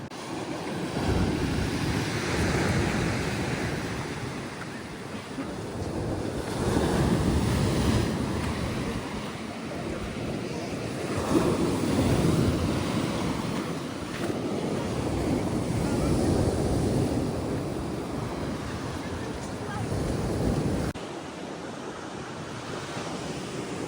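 Waves roll and break on an English Channel beach on a cold, windy day, a steady surging wash of surf with repeated swells, mixed with buffeting wind noise against the microphone.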